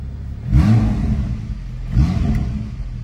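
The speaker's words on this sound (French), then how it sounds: "Le son de cette voiture est dingue." Car engine revving in two strong bursts, each a rising and falling low growl with a rumbling idle between, close and loud with no talk.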